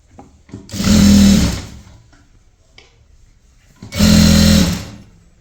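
A sewing machine stitches a folded hem on a maxi dress in two loud, close bursts of rapid whirring, each lasting about a second, separated by a quiet pause.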